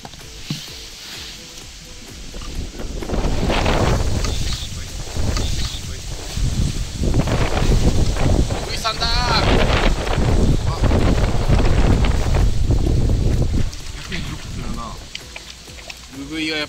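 Strong wind gusting over a fishing pond during autumn herabuna fishing, loud rushing buffets rising and falling against the microphone, with brief talk underneath.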